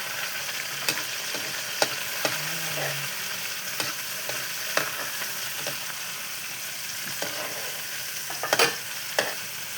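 Chopped garlic sautés in a pan with a constant close sizzle, broken by scattered metallic clinks and scrapes of stirring, before tomato goes in; no one speaks.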